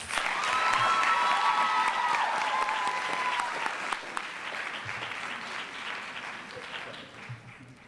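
Sustained audience applause at a university graduation ceremony, loud at first and slowly tapering, with a faint voice briefly audible early on.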